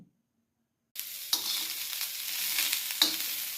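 Amla chutney ingredients with chopped chilli and salt hitting a little hot tempering oil, a sudden loud sizzle bursting in after silence, then a sustained crackle with a couple of sharp stirring knocks.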